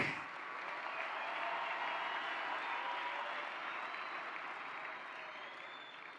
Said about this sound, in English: Let's clap hands for the dog.